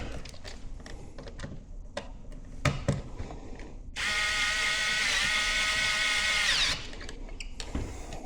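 A power drill backs screws out of a double-layer wall while a TV mount is installed, whining loudly and steadily for about three seconds between scattered clicks and handling knocks.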